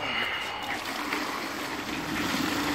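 Liquid feed pours steadily into calf feeders in a pen during morning feeding, a continuous close splashing and trickling stream with no pauses.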